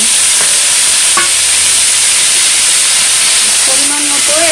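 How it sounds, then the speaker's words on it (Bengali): Bottle gourd stems and green banana frying in leftover fish-frying oil, a steady bright sizzle and hiss with a few faint clinks of a utensil stirring, loud and close. "মাছ ভাজার তেলের মধ্যে লাউ ডাঁটা আর কলাটা ভেজে নেব।"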